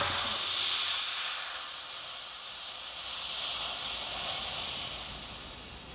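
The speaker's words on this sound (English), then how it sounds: "at which point the compressor will shut off." An air compressor supplying a CNC plasma cutting table reaches about 160 psi and shuts off, giving a steady, faint hiss of air that fades away toward the end. No speech.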